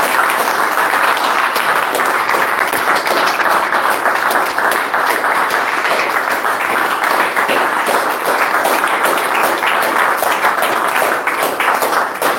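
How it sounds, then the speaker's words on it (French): A church congregation applauds together at a prayer service, steady dense clapping filling the room at full strength for the whole stretch, with no voices rising above it. "Applaudissons pour lui."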